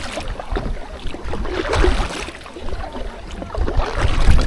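Paddle strokes on water while backing a BINANA inflatable catamaran kayak, a steady wash of splashing and dips over constant wind noise on an open lake or sea.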